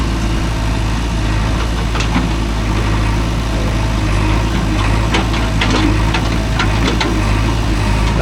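Tractor engine rumbles steadily and loudly nearby with a low diesel throb and some knocking as the vehicle approaches, with no talk, at a site where soil is being loaded.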